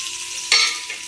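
Sliced onion and green chilli sauté in oil for an okra-tomato masala, a short bright sizzle that swells into a sharp burst midway, likely as the pan is stirred.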